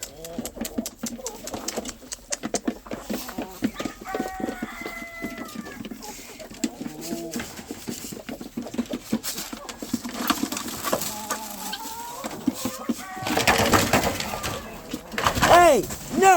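Hens on a homestead cluck and call in a busy, scattered stream of bird sounds, with someone talking at times and occasional shuffling and handling noises nearby.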